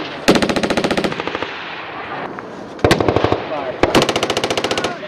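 Marine Corps machine gun section firing at 29 Palms: three loud, close bursts of rapid automatic gunfire, each a string of sharp evenly spaced shots, separated by short pauses with faint voices in between.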